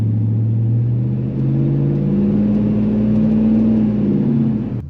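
A lowered Dodge Ram pickup drives along, its engine humming steadily from inside the cab, the tone slowly rising as it gathers speed.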